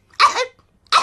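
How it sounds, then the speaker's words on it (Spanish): Two short bursts of coughing from cartoon adults in a Peppa Pig episode, the first longer and the second starting just before the end, clear and close with no talk. "Los adultos se han contagiado y tienen tos."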